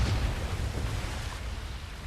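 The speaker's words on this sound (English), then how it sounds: "That explosion got the attention of all the German patrols in the area." A big explosion in a WWII-style video game, a lighthouse being blown up, gives a loud, sustained deep rumble with a rolling low roar that lingers for a couple of seconds.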